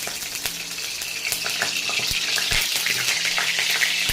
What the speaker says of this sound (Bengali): এখন আমি ফোড়ন দেবো ডালটাকে। আমি একটু দিয়ে দিলাম সরষের তেল।